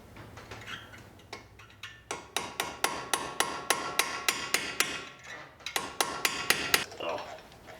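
Sharp metallic hammer blows on a drift punch knocking out brake caliper pins on a Mitsubishi Evo X MR, struck in a steady rhythm of about twenty close, loud taps with a brief pause midway.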